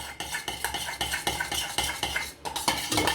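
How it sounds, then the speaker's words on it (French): A spoon scrapes and clinks against a bowl while stirring a spiced marinade with Tabasco or piri-piri for pork ribs, a continuous busy rhythm of taps and scrapes, close and without talk. "On mélange."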